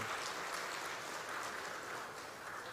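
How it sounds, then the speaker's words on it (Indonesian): Audience applause at a regional government achievement awards ceremony in Papua, a steady wash of clapping from a large crowd filling the hall, moderately loud and continuous throughout with no voices over it. "Kita berikan aplaus lah."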